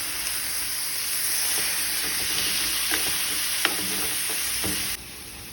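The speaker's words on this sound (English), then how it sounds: "I let it cook for 6 minutes and then flipped it" Steak fries in a pan with a loud, continuous sizzle and crackle, close up, with a few sharp pops and light clicks; the sizzle drops suddenly near the end.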